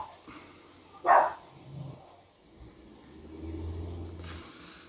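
A single sharp dog bark rings out at a distance over low outdoor rumble, with a car engine droning in the background.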